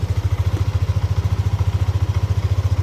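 An old-model Yamaha Aerox scooter idles just after starting, still cold, its single-cylinder engine putting out a loud, even, rapid low thumping that stays steady and close throughout.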